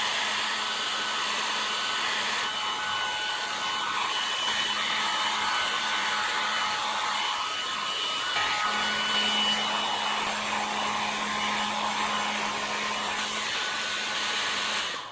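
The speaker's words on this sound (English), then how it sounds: "And for this I'm using an old hairdryer." An old hairdryer blows continuously at close range, a steady loud whooshing hiss with a faint motor whine, used to heat grease into a dried-out Brooks B66S leather bicycle saddle.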